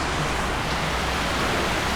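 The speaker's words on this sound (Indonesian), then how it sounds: "Nah ini kondisi hujan ya, hujan deras." Heavy rain pours steadily at a campsite, a dense, loud, unbroken hiss that fills the whole stretch with no talk over it.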